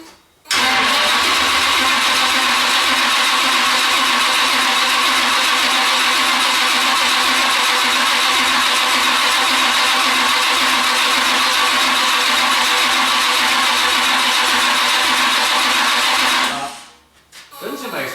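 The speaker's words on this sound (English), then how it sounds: "that's one of those high torque starters, I don't think they spin as fast as a regular one." An Oldsmobile Cutlass engine cranks continuously on a high torque starter for about sixteen seconds, a loud, even, somewhat slow whirring grind that never catches before cutting off.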